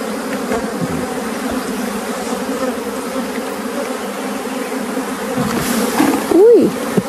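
Honeybees at an open hive humming in a dense, continuous close buzz, loud and steady throughout, with a brief rise in pitch near the end.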